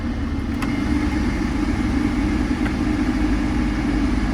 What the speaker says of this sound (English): All the vents are blowing.